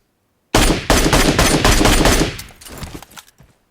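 Bursts of automatic gunfire in PUBG Mobile Metro Royale: loud rapid volleys with a brief pause after the first shots, then a fading tail and a few scattered shots.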